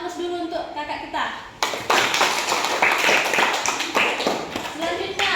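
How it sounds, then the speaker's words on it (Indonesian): Classroom applause for a student, a burst of many hands clapping that starts abruptly after a teacher's voice and continues steadily, fairly close and loud. "Masya Allah, kita aplaus dulu untuk kakak kita."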